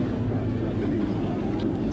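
Steady low drone of a fixed-wing aircraft passing overhead during a military ceremony as paratroopers are dropped, heard as a continuous distant rumble with no talk.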